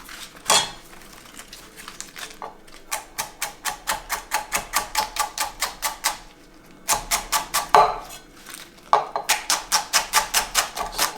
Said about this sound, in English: At this point, I'm going to slice it very, very thinly